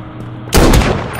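AKM rifle fire in a first-person shooter free-for-all round, a sudden loud burst of shots beginning midway and continuing with sharp repeated cracks.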